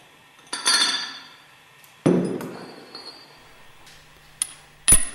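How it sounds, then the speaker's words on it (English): Plate lifted from the bowl of a Westfalia separator purifier during overhaul: sharp metallic clanks and ringing scrapes at intervals, several distinct hits with resonant tails, close and loud in a quiet workshop. "Remove the plate."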